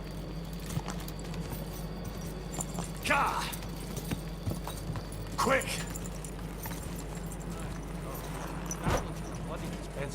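Horse hooves clip-clop in the medieval role-playing game Kingdom Come: Deliverance 2, a few faint hoof strikes at irregular intervals under a steady game ambience while people talk.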